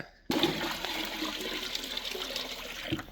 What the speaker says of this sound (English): I want a little bit more water in here so she can actually float.